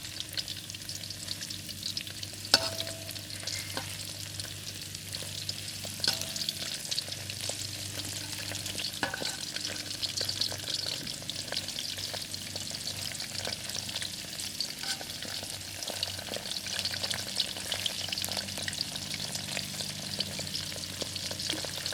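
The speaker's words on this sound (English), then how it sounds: "And you deep fry it until they turn golden brown, then you remove it." A raw pork chop for Peking pork chops deep fries in hot oil, giving a steady, dense crackling sizzle with a few sharper pops, close and continuous throughout with no talking.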